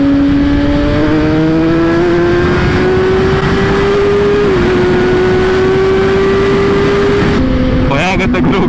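A Kawasaki ZX-10R 1000cc superbike's engine drones loudly and steadily while riding in winter, pitch climbing slowly through the gears before a sharp rev change at the end, with wind rush and a rider talking over it.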